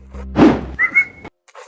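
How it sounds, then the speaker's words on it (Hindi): A person whistles one short, steady high note, held for about half a second just after a loud thump, then silence. "मुझे सीटी मारियो पहले"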